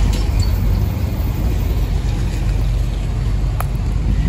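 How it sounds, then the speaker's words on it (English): Cars pass along a downtown street in Elizabeth City, North Carolina, a loud continuous low rumble of traffic with wind-like hiss and no talking. "I apologize if I'm talking over the sound of the cars."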